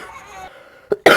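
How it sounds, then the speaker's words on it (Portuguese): A single short cough, close and sharp, following a brief moment of near quiet. "Desculpem a tosse nesse pedacinho."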